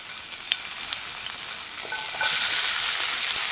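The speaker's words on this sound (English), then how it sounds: "Adding some fresh garlic cloves." Fresh garlic cloves sizzle in a hot pot, a steady bright frying hiss that swells louder partway through, with a few faint clinks and stirring scrapes; no one speaks.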